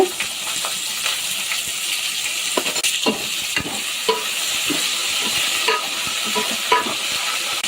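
Drumstick pieces stirred in hot oil in a pan while cooking an egg drumstick curry: a constant close sizzle and crackle of frying, with repeated scraping and clinking from a spoon stirring.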